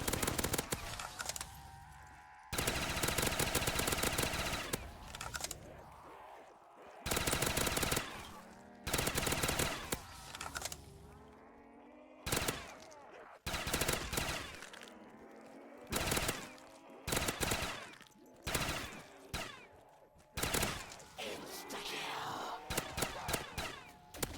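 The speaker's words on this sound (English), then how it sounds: "This gun is going through ammo like crazy" Automatic FAL fire in a round-based zombies shooter game, loud repeated bursts of rapid shots separated by short gaps, with a Pack-a-Punch setting in play and no talking during the firing.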